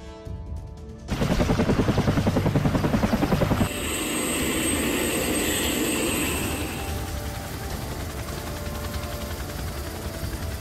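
A squadron of Bell 212 military helicopters of the Bahrain air force, heard as a loud, close, steady rotor chop that gives way to a broad engine and turbine roar, with no speech.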